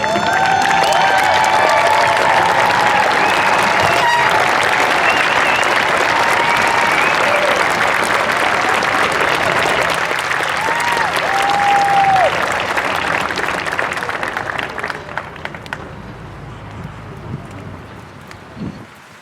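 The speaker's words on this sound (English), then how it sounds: "Can we stand up and give them a round of applause?" Outdoors at a high school graduation ceremony, a large audience gives the Class of 2021 a loud standing ovation, with whistles and cheers mixed into the clapping. It stays strong for a while, then thins out and fades toward the end.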